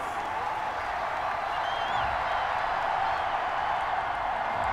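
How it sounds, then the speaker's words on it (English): Stadium crowd in a Madden NFL 21 simulated Bills playoff game reacts to a penalty flag with a broad, sustained roar of noise and faint cheering, steady throughout and moderately loud. "Well, the crowd doesn't like that."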